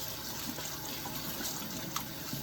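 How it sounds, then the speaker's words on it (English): Tap water runs steadily into a sink while store-bought produce is rinsed, a soft continuous splashing stream with small irregular spatters and no talking. "I'm gonna rinse them off because they were just sitting out on the counter"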